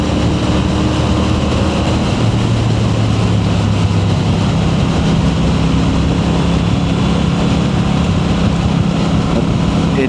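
A Triumph T120 motorcycle engine drones steadily while riding on a road with long open curves, loud and continuous, mixed with wind rush.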